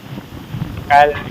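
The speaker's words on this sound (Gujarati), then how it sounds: "પવન આવીને ધીમો થઈ ગયો" Outdoor wind buffets the microphone in a low, steady rumble that eases, before a voice briefly speaks over it.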